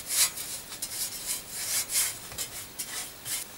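Greasy metal leaf spring blades from a 1954 Panhard Junior are rubbed and worked by hand, giving a series of soft rasping strokes in an irregular rhythm, close and fairly quiet.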